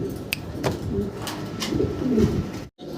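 Racing pigeons coo softly and repeatedly at close range on a pigeon farm, with low murmuring calls rising and falling over a steady background.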